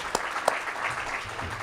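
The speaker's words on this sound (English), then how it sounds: "So let's give a round of applause for our panelists." Applause for a panel of speakers at a Native Edge Institute event in Honolulu, a brief burst of clapping from a modest audience, fairly even and moderately loud, with a couple of sharper claps near the start.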